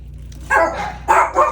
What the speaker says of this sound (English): Sorry, my dogs heard someone.